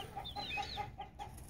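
Barred Rock, black Australorp and Americana chickens clucking close by, a steady run of short, evenly spaced clucks with faint higher calls mixed in, over a low background hum.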